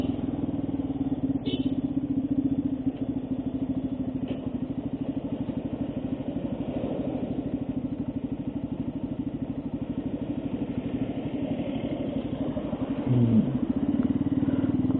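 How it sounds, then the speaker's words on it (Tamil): A large vehicle engine drones steadily on a monsoon hill road in the Kolli Hills, a continuous mid-pitched rumble that swells slightly toward the end as it draws closer, with no talking. "வண்டி வருது"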